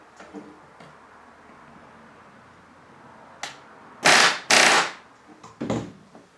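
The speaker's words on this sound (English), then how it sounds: "I had to dig out my air gun, and I've got to set the rivets with a gun." A pneumatic air rivet gun setting rivets on a Piper Super Cub fires two loud, close hammering bursts, then a shorter one, after a quiet stretch broken by faint taps and clicks.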